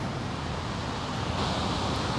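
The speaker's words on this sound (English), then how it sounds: "Some really massive waves." Massive ocean waves pound the shore at Cape Point on South Africa's Cape Peninsula, a dense, steady roar of surf and wind that continues unbroken with no voices.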